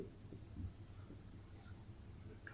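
Pen or pencil writing out a quadratic math equation on paper, a faint, continuous scratchy scribble close by with small strokes throughout.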